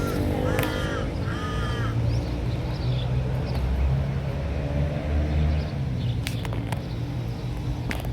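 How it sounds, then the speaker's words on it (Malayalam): Crows caw several times near the marble temple Wat Benchamabophit in Bangkok, the calls clustered early and set over a steady low rumble of nearby traffic. "ഇവിടെ നോക്കിയ കാക്കകളുടെ സൗണ്ട് നോക്കിയേ."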